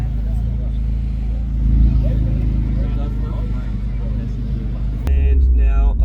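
Loud, steady engine rumble from a car at a Cars and Coffee morning meet, staying close throughout with a sharp burst and stronger idle pulses toward the end, with people talking in the background.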